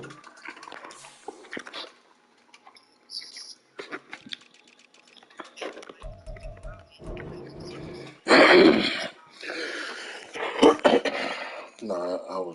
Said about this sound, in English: Nah, I was just clearing my throat.